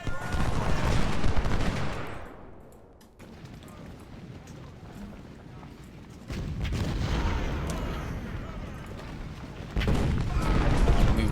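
Musket volleys and cannon fire in the Civil War strategy game Ultimate General: Civil War come as bursts of crackling gunfire and booms, loud and dense at first, dipping briefly, then swelling again.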